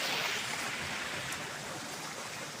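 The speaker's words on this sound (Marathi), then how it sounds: "आता ओढ्याला पाणी आलं आहे मित्रांनो." A small stream swollen with water after heavy rain near soybean fields gives a steady, close rushing hiss that holds evenly throughout with no voices.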